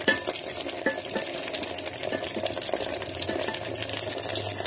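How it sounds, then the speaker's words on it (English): Bhindi masala is stirred and cooked in an electric kettle, giving a steady sizzling bubble with scraping stir noises throughout. It sounds close and moderately loud, with no talk. "stir it between some 10 seconds. Let it get cooked for 2 to 3 minutes"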